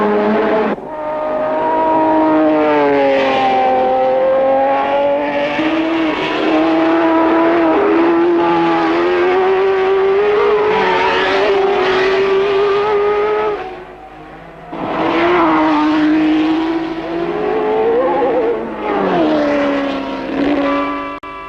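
1967 Formula One racing cars at the German Grand Prix: loud, high engine whine rising and falling through gear changes as cars pass close by, with one brief dip between passes and no talking.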